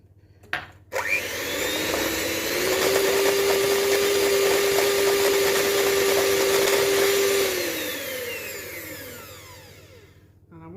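An electric mixer whisks egg whites for amaretti biscuits, starting with a clatter, building to a loud steady whirring whine held for several seconds, then winding down as it is switched off.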